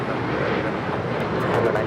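Boeing 737 MAX 9 jet departing Los Angeles International Airport, a steady loud engine rumble filling the short stretch, with a voice talking over it.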